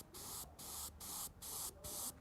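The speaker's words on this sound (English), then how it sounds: "spray a bit more" Five quick, regular puffs of airbrush spray hiss up close as thin paint goes onto a scale model, each burst broken by a short gap, with no voices.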